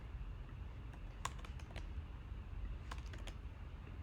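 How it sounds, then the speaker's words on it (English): Keys clatter on a computer keyboard while text is entered into a Canva design for an Instagram Reels cover, two short bursts of quick taps with a pause between, close and alone over a quiet room. "So we're going to type in 3 tips that make."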